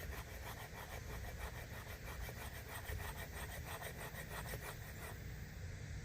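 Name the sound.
scraping with a Cuma cleaver blade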